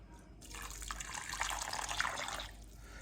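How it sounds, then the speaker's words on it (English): Hot tonkotsu ramen soup pours into a preheated bowl, a steady close splashing gush lasting about two seconds before tapering off, with no talking. "So I'm going to put about 300 mils of soup in."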